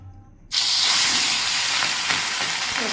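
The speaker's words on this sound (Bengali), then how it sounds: "তাহলে এবারে মাছটা কড়াইয়ে ভেজে নেবো" Pabda fish hits hot oil in a kadai with a sudden loud sizzle after a brief quiet moment, then a steady, close, hissing fry that continues without any talk.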